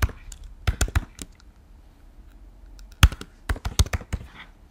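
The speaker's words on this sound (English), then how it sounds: "You type the email that you're going to use." Someone types an email address on a computer keyboard in two short bursts of close, crisp key taps with a quiet pause between them.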